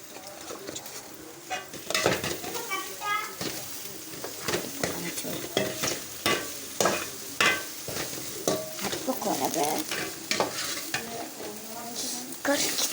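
Egg and rice stir-fried in a pan with a little pepper powder, a steady sizzle broken by repeated scraping and clattering strokes of a spatula against the pan, close and fairly loud, with no talking.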